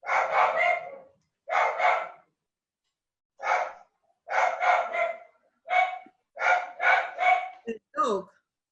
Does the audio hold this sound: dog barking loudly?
yes